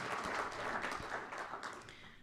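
Faint, distant applause from a symposium audience welcoming a speaker, a soft continuous patter of clapping that gradually tapers off.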